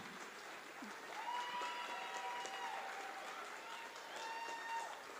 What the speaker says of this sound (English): can I get a round of applause for this year's High School Musical team?